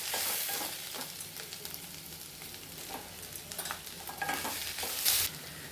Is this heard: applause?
no